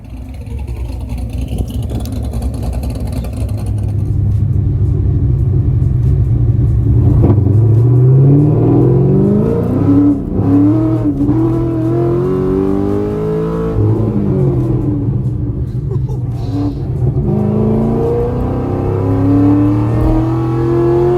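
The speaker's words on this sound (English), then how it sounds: "But today I just felt like driving the BRZ because I don't get to drive this car much" A Subaru BRZ's engine revs loudly and close up while driving, rising and falling through repeated climbing sweeps with a deep rumble underneath.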